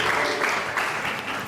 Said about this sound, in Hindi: अलीजा के लिए भी तालियां बजाइए।